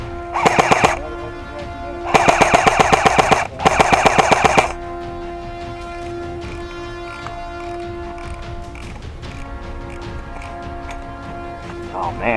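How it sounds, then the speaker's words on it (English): Three short bursts of rapid machine-gun fire in a video game battle, loud and close, fired over a steady background drone with voices talking. "we're taking fire on all sides now"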